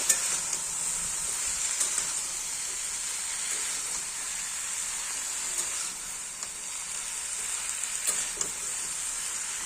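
Vegetables for Gobindobhog rice khichuri frying in a wok, a steady close sizzle and hiss running throughout, with light occasional stirring clicks.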